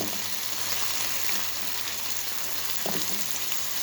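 Chicken and bell peppers fry in a pan with a steady, close crackling sizzle throughout, broken by one brief stir, and no voices.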